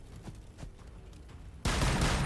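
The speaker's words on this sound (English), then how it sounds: "And then we'll do grenade launcher here." A grenade launcher fires in the Warhammer 40K: Battlesector video game, a sudden loud blast breaking in after a quieter stretch of game ambience and roaring on to the end.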